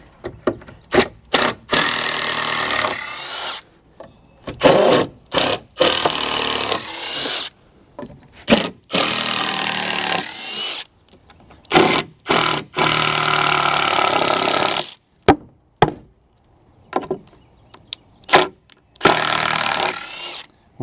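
A power drill or driver backs screws out of a wooden deck step in short repeated whirring bursts separated by pauses, close and fairly loud.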